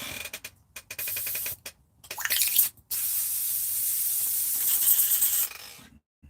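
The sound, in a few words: spray cleaning station spraying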